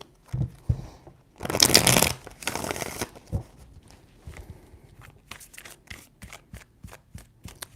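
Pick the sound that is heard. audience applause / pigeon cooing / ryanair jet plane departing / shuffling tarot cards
shuffling tarot cards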